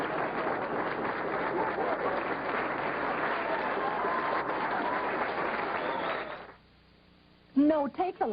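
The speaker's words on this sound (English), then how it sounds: "Let's have a nice round of applause for my father, Alan Spaulding." Audience applause at a send-off tribute, a broad steady wash of clapping for about six seconds that stops abruptly, followed by a short silence and then a voice beginning to speak.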